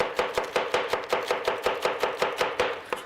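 A knife chops lettuce and tomato on a cutting board for a bleu cheese burger, about fifteen quick, even, crisp knocks in a steady rhythm, close up and with no voices.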